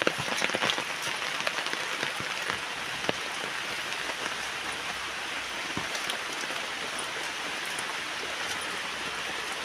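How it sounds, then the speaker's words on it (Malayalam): Heavy rain pours steadily onto surfaces and coconut palm fronds, a dense, constant patter with occasional louder drops close by. "നല്ല മഴയാന്ന് കേട്ടാ"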